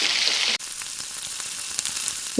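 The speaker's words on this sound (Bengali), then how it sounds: "আমি বেশ কিছুক্ষণ নাড়াচাড়া করে ভাজা ভাজা করে নেব" Chicken coated in spices sizzles loudly in a pan while being stirred and turned, a steady hiss briefly interrupted, then continuing with small scraping clicks.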